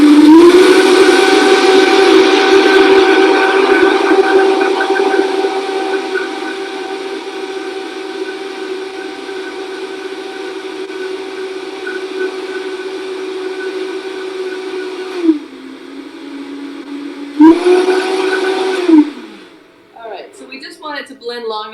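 A blender whirs loudly and steadily as it blends Irish moss with hot water, a sustained motor whine that drops briefly, revs up again, then cuts off near the end.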